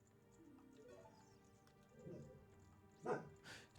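A single dog barks at a moderate distance amid quiet room noise, giving one or two sharp barks near the end.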